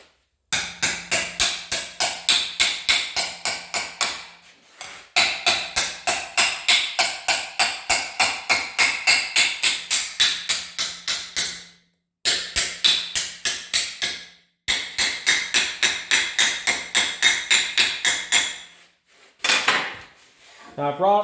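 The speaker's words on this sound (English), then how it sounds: "Now I'm just going to take the vise and bend this up." A custom radiator support for a chopped 1949 Chevy is worked in a vise, with long runs of rapid, evenly spaced metallic clacks broken by brief pauses, close and loud.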